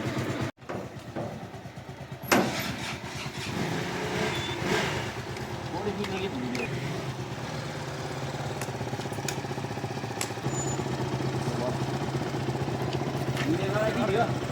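A motorbike is readied for a ride from Bharatpur to Pokhara, its engine starting and then running at a steady idle with a continuous low rumble, while people talk nearby.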